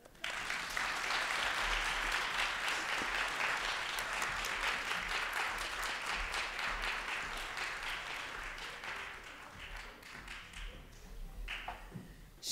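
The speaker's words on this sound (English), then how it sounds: "Please give another round of applause to Professor Janice Harrington" An audience at a haiku festival awards program breaks into sustained applause, many hands clapping densely and steadily before thinning out toward the end.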